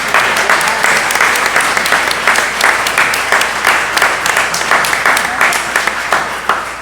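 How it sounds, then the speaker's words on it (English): A conference audience gives sustained, dense applause for panelists, a steady wash of many hands clapping with a few louder individual claps throughout. "why don't we give our panelists a big round of applause"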